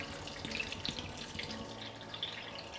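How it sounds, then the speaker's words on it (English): Coconut water pours in a soft, steady trickle with faint splashing, fairly quiet and close. "now I'm just going to pour in my coconut water"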